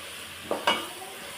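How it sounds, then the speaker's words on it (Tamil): Mint and coriander leaves are stirred in a sizzling pan while cooking biryani, with two quick spoon scrapes over a steady low frying hiss, heard up close. "இப்போ இதையும் நல்லா வதக்கி விடணும்."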